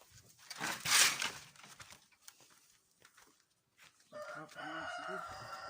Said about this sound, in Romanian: mai departe o să ne ducem la cucoși și găini